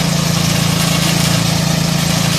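A TMR feed mixer's engine idles steadily after starting, a loud, continuous low droning hum with an even throb that runs unbroken from start to finish and holds a constant level throughout.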